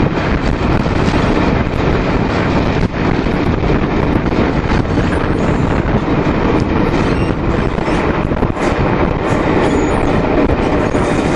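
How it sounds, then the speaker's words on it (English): A London Overground train runs steadily towards Gospel Oak, its continuous loud rumble and rattle of carriages on rails mixed with wind buffeting the microphone throughout, with no talking. "we're on the London Overground line going towards Gospel Oak"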